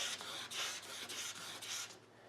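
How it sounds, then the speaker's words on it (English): Plastic car headlight being wet sanded with a sanding block: a soft, rhythmic rasping scrub that swells and fades in repeated back-and-forth strokes, close and fairly quiet. "Okay, so we have our wet sand block."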